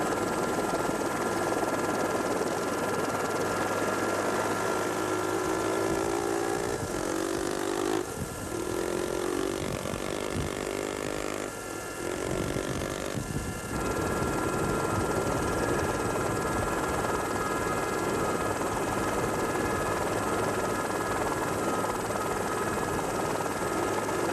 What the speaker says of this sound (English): It takes a brave man to keep a motorcycle flat out in conditions like this.